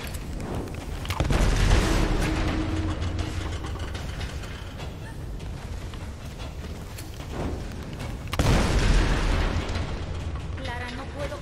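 Explosions in the Tomb Raider video game, with Lara Criado's grenade launcher: two heavy bursts with deep low rumble, one early and one later, separated by mechanical clanking and game noise, with a voice talking throughout.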